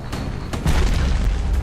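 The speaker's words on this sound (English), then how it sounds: "apparently we need to throw the hand grenade" A hand grenade goes off in the video game Bastion, a dull, rumbling boom that swells and holds as a loud, low roar to the end.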